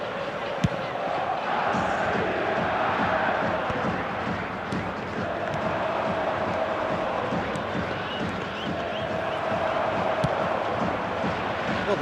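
A stadium crowd in the eFootball video game applauds and murmurs steadily throughout a Paris Saint-Germain match, a broad sustained roar with a commentator talking over it.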